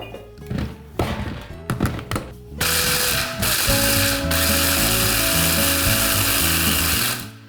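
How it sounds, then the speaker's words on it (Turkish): A kitchen food processor grinds dried chickpeas into flour, first clattering and rattling as the hard legumes hit the blade, then settling into a loud continuous motor whir with rattling grains that runs steadily before stopping. "Evet robotunu alıyorum. çekmeye başlıyorum."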